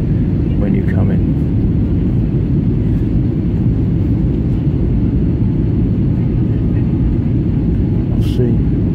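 Inside an airplane coming in to land over London, a loud, constant low engine rumble drones without pause, with faint talk barely audible beneath it.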